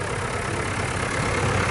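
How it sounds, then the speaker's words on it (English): Big six-cylinder diesel engine of an International IH955 tractor at a country fair, a loud, close, steady low rumble with no talk over it. "IH955 going around there, lovely big 6-cylinder engine in that"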